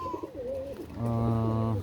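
A pigeon gives a close, low, throaty coo near the end, following a short stretch of softer chirpy bird sounds.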